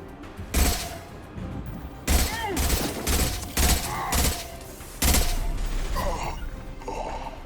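Bursts of gunfire in the Mass Effect 2 video game, several separate volleys of loud rapid shots spaced a second or so apart, with mechanical clanks and faint voices between them.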